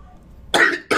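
A single sharp cough bursts out close to the microphone after a moment of near silence, followed by the start of a second cough at the very end.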